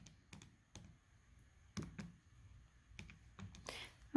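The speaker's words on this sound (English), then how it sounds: "If I type this into my calculator, don't forget your negative sign." Fingers tap out a few soft, irregular presses on calculator keys, faint and close in an otherwise quiet room, with no talking.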